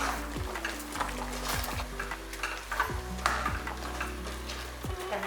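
A spoon or spatula scrapes and stirs a sizzling ground paste with onions in a pan, with repeated clinks against the metal and a steady low frying hiss.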